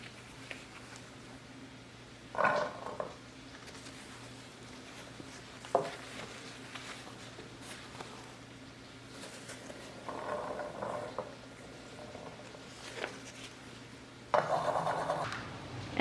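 Arbequina black Spanish olives drop into a glass pan with an airtight lid, giving a few soft, scattered rattling bursts of olives hitting glass, separated by quiet pauses over a low steady hum.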